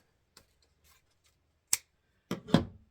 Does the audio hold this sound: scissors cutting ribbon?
yes